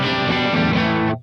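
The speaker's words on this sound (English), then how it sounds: "I have the Kemper set with a vintage Fender Bassman, and it's on the verge of breakup" Electric guitar played through a Kemper profile of a vintage Fender Bassman set right at the edge of breakup, a single sustained, slightly gritty chord ringing for about a second before cutting off sharply.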